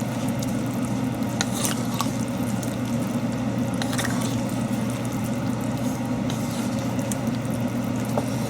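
Cauliflower is stirred into a pot of vegetarian gumbo, giving a continuous wet, bubbling hiss with scattered soft clicks and scrapes of the spoon, steady and close throughout; no voices.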